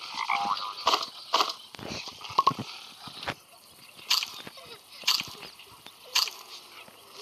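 Frogs croak in the Roblox game 99 Nights in the Forest, with short bright croaks repeating every second or so, close and fairly loud over a quiet background.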